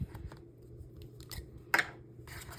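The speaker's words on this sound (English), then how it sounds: "Let's just snip that in half so that we have a proper apostrophe" Scissors snip once through a piece of paper, a single sharp, close cut with a brief crisp rustle after it, set against a quiet room with faint background noise.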